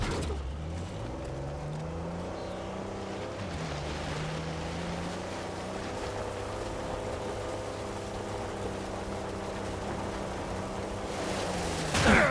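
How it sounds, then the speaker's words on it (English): A vehicle engine in Uncharted 4 runs steadily while driving, a continuous low drone whose pitch rises and falls with throttle, with watery splashing texture throughout and a louder burst at the very end. "Okay, the engine's running."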